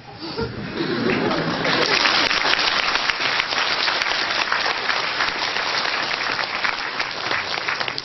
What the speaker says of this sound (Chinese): 很高兴大家为木心先生鼓掌